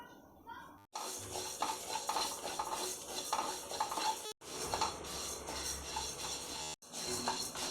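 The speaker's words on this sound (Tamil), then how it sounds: "இந்த பதினஞ்சு பொருளையும் நல்லா தனித்தனியாக போட்டு வறுத்து எடுக்கணும்" Spices and grains dry roasting in a pan, with scraping stirring and clinks of a utensil against metal, busy and close, interrupted by a few short silences.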